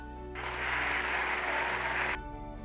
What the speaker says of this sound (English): Clap for Neha.